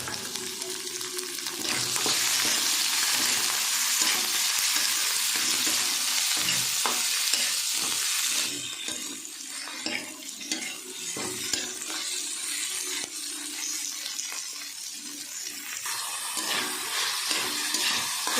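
Goat liver fries in a pan with a strong, continuous sizzle, punctuated by repeated scraping and clinking as the pieces are stirred, the hiss surging louder at moments.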